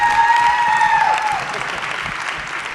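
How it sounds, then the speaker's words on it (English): Audience applause fills a school auditorium in Chicago for Leslie Odom Jr. at a live humanities festival event, a loud sustained wash of clapping with a few whoops that eases slightly toward the end. "You must feel right at home with that applause"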